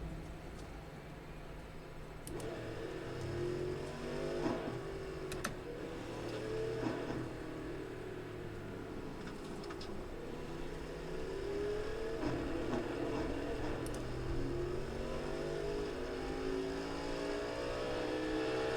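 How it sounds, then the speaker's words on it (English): A Cadillac GTP race car in iRacing drives steadily, its engine note rising and falling through gear shifts with repeated revving sweeps, fairly close and alone with no talk. "We're in the Cadillac GTP. Just do a little driving"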